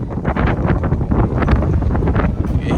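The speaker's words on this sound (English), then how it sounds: "You hear the wind picking up." Strong gusting wind buffets the microphone near a Greek island port, a loud continuous roar with rustling bursts, heard close and alone.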